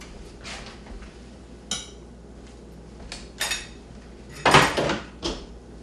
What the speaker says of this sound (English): Kind of a big potato, so I'm going to help myself out with a spatula here.